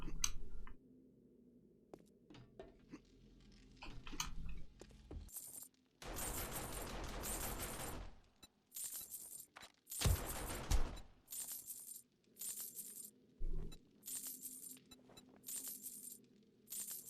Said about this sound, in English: that's just my turrets. They're really loud. Pop, pop, pop, pop.